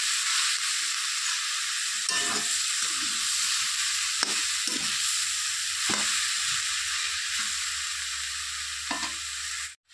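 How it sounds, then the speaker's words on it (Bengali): Cabbage curry in a frying pan sizzles in a steady bright hiss as a spoonful of sugar is stirred through, a few spatula scrapes and knocks spaced across it, close by and free of speech. "খুলে দিয়ে দিচ্ছি একটুখানি চিনি দিয়ে আবার একটু ভালো করে নেড়ে চেড়ে দিচ্ছি"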